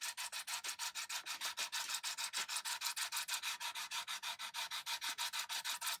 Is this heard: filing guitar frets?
yes